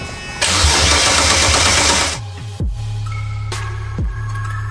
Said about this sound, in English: start the car for real